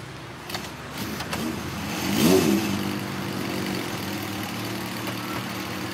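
An idling car engine rumbles low, then briefly revs up louder around the middle before settling back to a steady idle.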